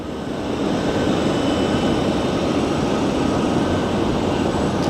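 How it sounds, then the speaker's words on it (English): American Airlines jets depart from Phoenix Sky Harbor airport in a steady, loud, broadband roar of engines that swells early and holds without pause, heard outdoors with no talk. "now we're going to get a steady line of American Airlines planes that are going to be departing."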